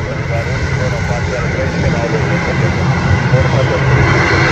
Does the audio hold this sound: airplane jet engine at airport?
yes